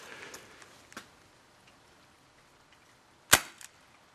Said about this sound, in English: Now we're going to be doing the same test with .20 BBs just to see what the difference is on the FPS.